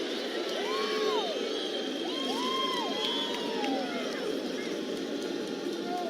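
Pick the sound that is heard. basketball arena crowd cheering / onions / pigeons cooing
basketball arena crowd cheering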